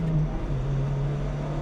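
A steady engine drone from a Honda Civic Type R, JDM version with a lighter flywheel, heard from inside the car while driving, holding an even pitch rather than climbing.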